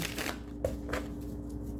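A deck of tarot cards shuffled by hand, a short soft riffling and rustling with a couple of sharper flicks, close and steady with no talking.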